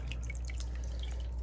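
Water drips steadily through a homemade filter on an aquarium intake tube, with a soft continuous trickle and close, quiet drops throughout.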